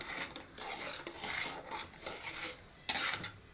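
A spoon stirs ginger tamarind pickle in a pan, with soft scraping and occasional metallic clinks at close range, one sharper knock near the end, no voices.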